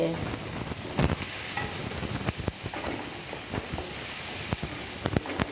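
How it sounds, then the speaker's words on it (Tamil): Pieces of moringa drumstick sizzle and crackle in a frying pan as they are stirred, with a dense steady hiss broken by scattered scraping clicks of the spoon, close and clear, no speech. "பாருங்கள் முருங்காவை வந்து கொட்டிட்டோம் இதை லைட்டாக இப்படி கிண்டி விட்டுட்டு"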